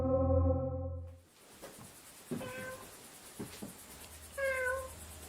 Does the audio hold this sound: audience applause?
no